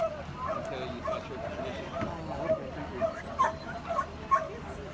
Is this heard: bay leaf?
no